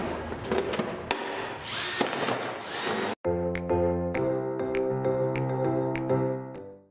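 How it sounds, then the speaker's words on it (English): A power drill bores rivet holes while building a solar bottle bulb, giving a loud, harsh whirring burst for about three seconds, then a steadier humming drone with regular sharp clicks, close up and without talk. "It's always good to rivet immediately after you drill to make sure that the holes are aligned."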